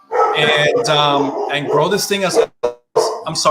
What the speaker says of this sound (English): if you hear the dog barking